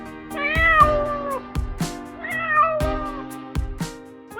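Cute cats abandoned in a cardboard box meow twice, each a long, wavering, plaintive cry close to the microphone, with soft thumps and rustling between the calls.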